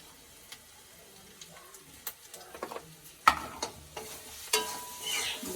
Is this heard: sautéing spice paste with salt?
yes